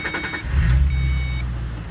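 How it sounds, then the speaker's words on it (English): A vehicle engine cranks briefly with a quick series of pulses, catches, and settles into a loud, steady low idle with a faint high whine above it. "we're gonna go ahead and start the vehicle"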